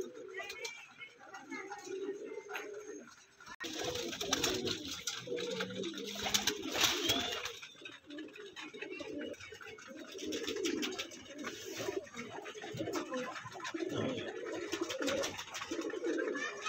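Pigeons at a home cage coo steadily and overlap one another in a close, continuous chorus, with a person talking in the background at times.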